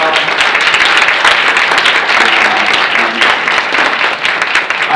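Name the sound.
meeting audience applauding the staff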